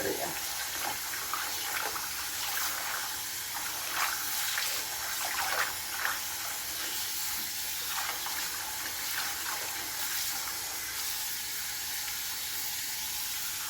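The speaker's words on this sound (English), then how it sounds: "I normally will take this out and start again and run more water into" Tap water runs steadily into a sink while collard greens are washed, a continuous close hiss and splash with faint clatter, no voice over it.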